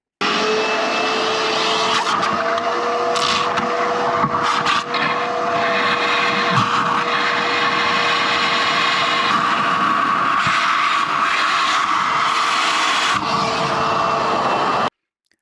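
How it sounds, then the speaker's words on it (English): A wet vac sucking a blockage out of a drain trap runs steadily and loudly for about fifteen seconds, a continuous motor whine with airy roar and a few gurgling knocks, cutting off abruptly at the end. "I took a little trip back down to the van at this point and got the wet vac"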